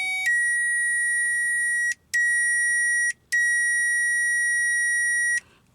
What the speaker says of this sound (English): I can also put the multimeter on here and see if, there's continuity, between the contacts and the fan.